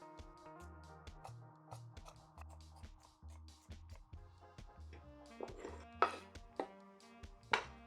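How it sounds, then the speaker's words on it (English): Pumpkin and carrots being chopped on a board for Jamaican red peas soup, a steady series of close, faint knife strikes under soft music. "Now I'm gonna cut up everything."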